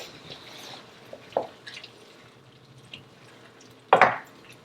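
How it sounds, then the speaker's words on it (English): A spoon stirs risotto with scallops in a pan, giving soft, close scraping and a couple of brief louder clacks, one near the end; no one speaks. "Put that in our pan and that's it. All right, stir all that in."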